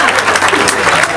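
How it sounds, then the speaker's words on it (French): A comedy show audience bursts into loud, dense applause, close and continuous for a brief moment, with some voices mixed into the clapping. "on les applaudit quand même"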